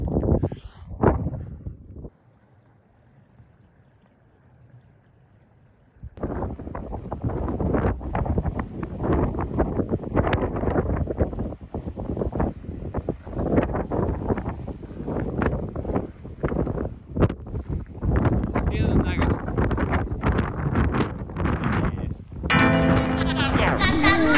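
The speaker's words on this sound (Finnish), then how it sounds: "täällä tuulee niin paljon" Strong wind buffets the microphone on a mountain in Catalonia, loud gusty roaring in long bursts after a quieter opening, with the wind pressure rising and falling almost continuously.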